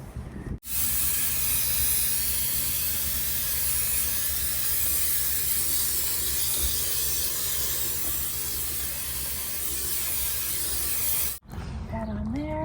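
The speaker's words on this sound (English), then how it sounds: "let's get it sprayed and in place." Spray adhesive hisses from a can onto a Ford Transit van door panel in one loud, steady, close burst lasting about ten seconds before cutting off abruptly.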